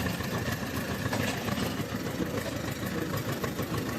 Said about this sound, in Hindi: और ट्रैक्टर को रास्ते से नीचे उतार लेते हैं खेत में।